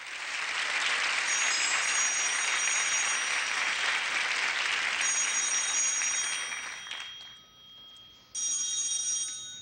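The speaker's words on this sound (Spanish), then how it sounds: "Fuerte el aplauso para ellos" Studio audience applause on a Chilean variety show in 1986, loud and sustained through most of the stretch with a high bell-like ringing tone on top, dipping briefly near the end before surging again.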